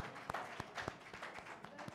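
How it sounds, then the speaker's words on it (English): Scattered, uneven hand claps from an audience at an indoor award ceremony, sparse and fairly quiet, with individual claps standing out rather than a full roar. "So a big round of applause for him."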